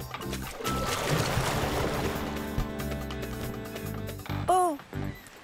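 A cartoon boat speeds through water in a continuous rushing wash, with a brief squealing accent near the end; no one speaks over it.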